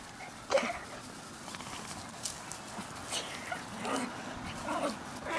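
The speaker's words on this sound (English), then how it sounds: "This is the first time Cassie's been outside with other dogs." Several dogs outdoors together, including a puppy out with other dogs for the first time, giving scattered faint barks and whimpers among rustling and movement, with no clear talk.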